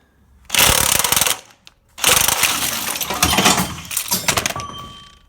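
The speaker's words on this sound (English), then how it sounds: "I'm going to try and get these out with the impact just because they're very, very difficult to get out by hand in this space" Pneumatic impact wrench undoing nuts in a cramped spot on a Ford Focus 1.6 diesel engine, firing two loud, close bursts of harsh hammering rattle, the second longer and uneven.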